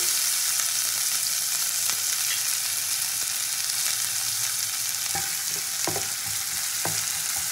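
Chopped onion frying in hot oil for a Bengali katla kasundi fish dish, a steady broadband sizzle throughout with a few sharp utensil scrapes and clicks near the end, close and alone.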